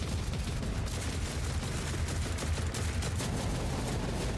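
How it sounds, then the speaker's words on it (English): Defense turrets in the game Warhammer 40k Rogue Trader fire a rapid, continuous stream of shots, a dense, steady rattling burst that runs throughout at moderate loudness with no voices over it. "Oh, did I just activate turrets?"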